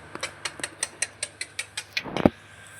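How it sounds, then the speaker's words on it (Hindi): A phone drops in a home kitchen and hits the floor: a run of light regular clicks and taps, then a louder clattering thud of impact near the end, close and alone without talk. "फोन कैसे गिरा?"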